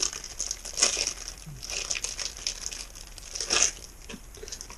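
Plastic packaging around Kawasaki motorcycle bolts for a 2005 Ninja 250 crinkles and rustles up close, with a few sharper crackling bursts amid quieter handling.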